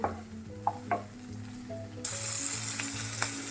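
Baby corn deep-fries in oil. A few soft knocks come first, then a dense, continuous sizzle rises sharply and holds close and loud, with no talking.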